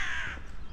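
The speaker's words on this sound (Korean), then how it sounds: "까마귀도 열심히 오네." A crow gives a single short, harsh caw, close and clear, along a rural stretch of the Camino de Santiago pilgrimage route in Spain.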